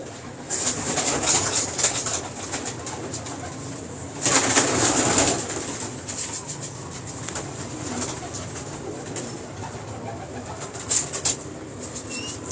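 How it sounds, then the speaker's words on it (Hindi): Champion racing pigeons in a Lahore loft coo steadily over a low ambient hum, with a brief flurry of busier bird sound midway and another short burst near the end. "बड़ा ही आला कबूतर है"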